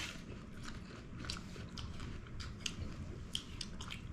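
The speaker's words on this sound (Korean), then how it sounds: "이거 한입 먹어보자." Someone bites into a juicy, crisp custard apple (sugar apple) in Taiwan and chews, giving soft wet crunches and a few sharp snaps over a quiet, close, moist chewing sound, with no talking.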